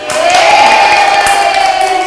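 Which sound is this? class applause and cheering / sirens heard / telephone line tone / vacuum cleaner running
class applause and cheering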